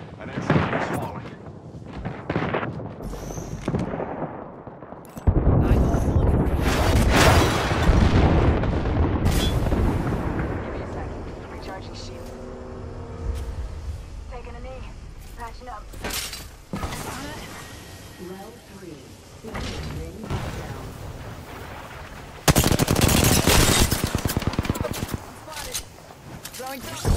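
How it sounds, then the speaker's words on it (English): Airstrike explosions in Apex Legends: heavy booms and rumbling blasts come in loud bursts, with gunfire-like cracks in between and a voice talking over the chaos. "An airstrike is falling."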